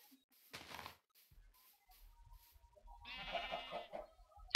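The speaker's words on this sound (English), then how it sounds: "I have yet to actually see any sheep. Ah, speaking of the devil." A Minecraft sheep bleats in a swamp in the Feed The Beast modpack, one short clear cry near the start and a longer wavering bleat later, over soft game ambience with no talking.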